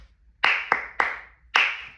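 Flamenco palmas in tangos compás: four sharp, crisp hand claps land in an uneven rhythm, close and clear, each with a short decaying ring, no speech.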